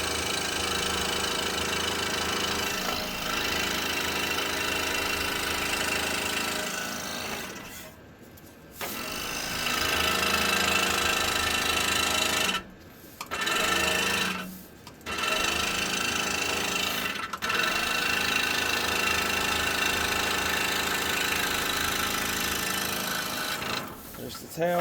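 A power saw cutting a wooden cardinal carving, a sustained close whining buzz through the wood, broken by a few brief pauses as the cut stops and restarts.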